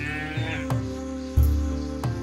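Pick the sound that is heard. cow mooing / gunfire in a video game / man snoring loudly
cow mooing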